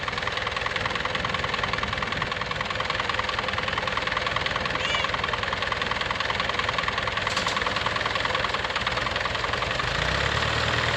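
Farm tractor running with its PTO engaged, driving a seed spreader: a steady, loud mechanical drone with a knocking, vibrating engine note and constant rattle, unbroken throughout.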